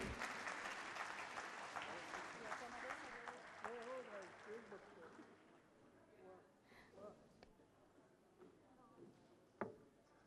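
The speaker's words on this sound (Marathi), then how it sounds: "जोरदार टाळ्या होऊन जाऊ देत" Loud applause from an audience at a foundation day celebration, greeting gifts handmade by children; dense clapping fills the first half, then thins out and fades as voices take over.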